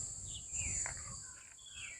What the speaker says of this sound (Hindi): पक्षियों का कलरव।